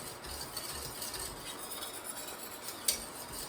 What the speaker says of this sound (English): you want to keep whisking because you want to make sure you don't have any lumps